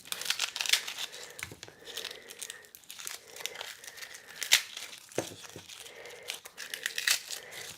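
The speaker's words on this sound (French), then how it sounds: "je vais vous montrer ma façon d'éplucher les gousses d'ail" Garlic cloves being peeled by hand give close, faint papery crinkling and tearing in irregular bursts, with a few soft taps.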